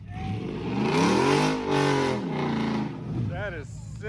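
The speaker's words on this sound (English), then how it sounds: "we've got a Can-Am coming through this super muddy section of the trails out at Ryan's Ranch" A Can-Am off-road vehicle revs hard through a muddy trail section, its engine swelling loud as it passes close by and then fading, with voices near the end.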